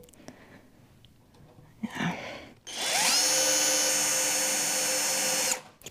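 A brief knock and rustle, then a power drill whirs loudly and steadily for about three seconds before stopping abruptly.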